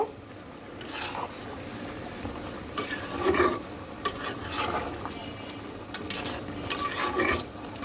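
A jackfruit and prawn curry is stirred in a pan after cumin powder goes in: low sizzling behind several distinct scraping and knocking spatula strokes, close by and moderately loud, with no voice.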